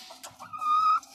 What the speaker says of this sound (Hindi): ये अंदर बैठी है जी मुर्गी, ये अंडा देने के लिए आई है